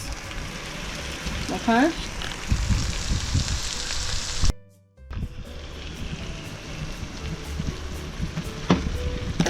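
Rice with pork and vegetables fries in a pan on a low stove with a continuous dense hiss. A brief drop in the middle is followed by the sizzle resuming, and a voice speaks a single short word early on.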